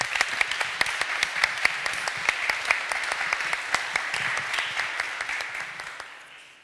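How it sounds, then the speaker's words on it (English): An audience in a university hall applauds at an EU Day event, with dense, steady clapping that holds strong for several seconds before tapering off at the end. "A warm applause."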